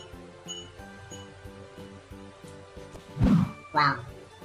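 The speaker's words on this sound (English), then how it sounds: "Wow, this is the sound of a hit." A hit sound effect from a homemade Flappy Bird game built in Visual C#: two quick thumping impacts close together near the end, over a soft repeating game tune.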